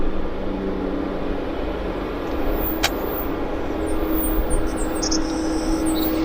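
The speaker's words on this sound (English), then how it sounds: "Can hear some nice birds chirping away, having a grand old time." Birds chirp outdoors at Vancouver airport, giving faint, scattered high calls over a steady wash of distant traffic and airport rumble.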